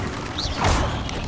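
Hogwarts Legacy Expelliarmus spell effect, a short magical whoosh and burst with a thudding impact swelling midway, dense and loud over game ambience.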